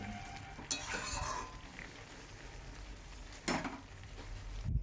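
Bottle gourd stem curry with a fish head being stirred and fried dry in a pan, giving a steady low sizzle with scraping spoon strokes and a couple of louder clatters, no talking.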